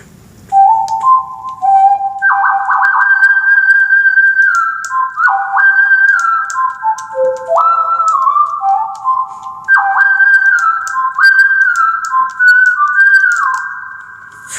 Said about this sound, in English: This next sound is just really fascinating. I love this. It's a whistle.